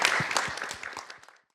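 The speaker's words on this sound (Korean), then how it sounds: "힘찬 박수와 함께 마무리하는 걸로 하겠습니다." Brief applause from the audience closes a talk-concert session at a national research institute, a burst of clapping that thins out and stops within about a second and a half.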